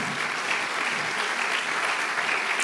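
A church congregation applauding during a service, a steady, even wash of clapping heard throughout with no pauses.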